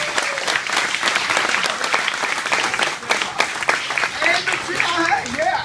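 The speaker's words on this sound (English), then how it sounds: "I'd love to give Aaron and his group a round of applause." Audience applause at a restaurant grand opening, a lively burst of many hands clapping close by, with cheers and talking mixed in throughout.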